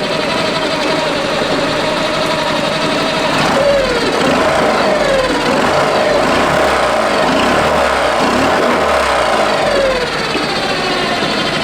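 A Yamaha outboard motor idles right up close, a loud, steady, rough mechanical drone that keeps going without a break and with no talking.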